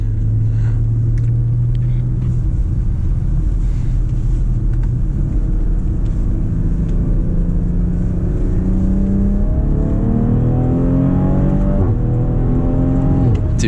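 A 2020 BMW X3 M40i accelerates hard through the gears, its engine droning low then rising steadily in pitch on a strong third-gear pull, heard loud and close from inside the cabin with no talking.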